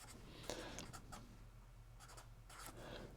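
Pen or chalk scratching out a mathematical expression, quiet scribbling strokes in short bursts with pauses between them.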